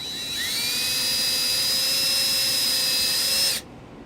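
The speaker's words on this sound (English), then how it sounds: "we're going to drill a 3/32 pilot hole in this spot" A power drill cuts a 3/32-inch pilot hole into a sheet-metal panel of a 2012 Dodge Journey, whining with a rising then steady pitch for about three and a half seconds before cutting off abruptly, up close.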